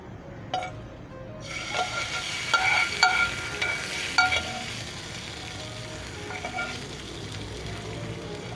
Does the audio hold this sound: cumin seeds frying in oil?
yes